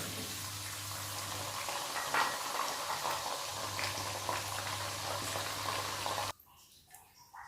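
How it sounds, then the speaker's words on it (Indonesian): Peanuts sizzle in hot oil in a pan while Betawi nasi ulam is being made, a steady bubbling, crackling fry heard up close for about six seconds before cutting to quiet. "Kita goreng kacangnya sampai dia matang."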